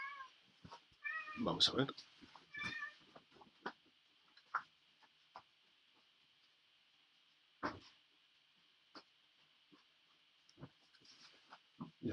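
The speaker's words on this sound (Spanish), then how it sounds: "Tenía el gato ahí dando por saco." A house cat meows near a desk, giving a few short meows early on that overlap with someone talking, followed by quiet ticks and faint clicks against a steady electronic hum.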